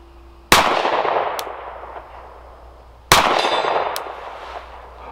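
Two loud shots from a Sig P365 X Macro pistol, each followed by the ringing clang of a steel target hit at distance, spaced a few seconds apart with sharp attacks and long metallic decays.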